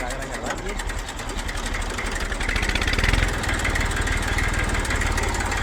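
A tractor engine running nearby on a farm, with a rapid, steady mechanical chugging that grows slightly louder midway and continues unbroken under some background talk.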